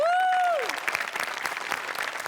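A studio audience at a comedy show claps, a tonal music sting fading out at the start before many hands take over in a continuous burst of applause.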